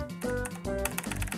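A computer keyboard clatters in rapid bursts of typing during a game stream. The keystrokes are close and busy, with a tonal background layer underneath.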